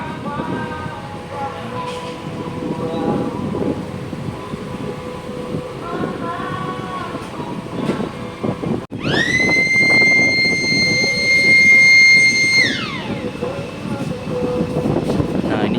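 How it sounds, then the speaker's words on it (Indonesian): A passenger ferry's ramp door opening, with a low mechanical drone that gives way halfway through to a loud, abrupt motorized whine, which holds steady for several seconds and then winds down over continuing ship machinery hum. "Nah, ini jadi ramdornya lagi dibuka."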